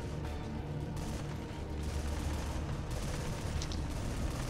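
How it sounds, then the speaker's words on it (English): Assault rifle fire from the video game Metal Gear Survive rattles in dense, continuous bursts, loud and constant over a rumbling game soundscape, with no talking. "I just waste all my assault rifle ammo."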